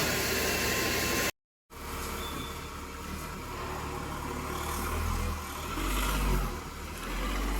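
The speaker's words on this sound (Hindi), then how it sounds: "आपको काफ़ी ज़्यादा नॉइस आ रहा होगा, तो वही वैक्यूम क्लीनर की वॉइस है।" A vacuum cleaner roars steadily while cleaning the interior of a Tata Nexon petrol AMT at a service workshop, a continuous loud broadband whoosh with slight swells in pitch and volume.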